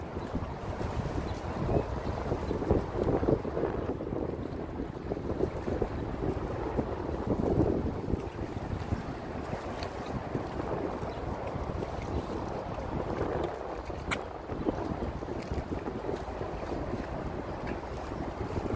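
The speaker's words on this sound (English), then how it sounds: "You can hear the waves of the Hudson River crashing against those rocks." Hudson River water lapping and washing against shoreline rocks on a summer day in Manhattan, a steady broadband wash blended with wind buffeting the microphone, continuous and fairly loud with no talking.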